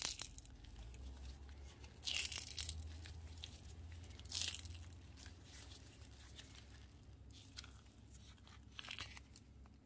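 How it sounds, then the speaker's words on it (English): A cured resin crystal cracking free of a silicone amethyst mold, giving a couple of sharp, crunchy pops and crackles over quiet handling noise, close and fairly faint. "I just love that crunchy sound when it pops out of the mold"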